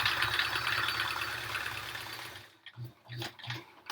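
A domestic sewing machine runs steadily while stitching a long backing seam on a quilt, a close, even mechanical hum that stops partway through. A few soft knocks and handling sounds follow.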